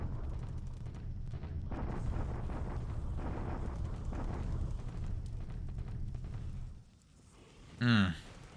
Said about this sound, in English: Japanese bombardment at Taiyun.